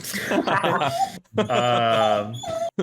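A distressed dog whimpers and whines in high, wavering cries with short yips, two bursts separated by a brief pause, close and loud.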